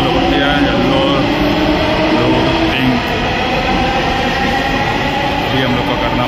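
A Delhi Metro train rumbles at the station, producing a loud, steady roar of wheels and rail noise that holds for several seconds.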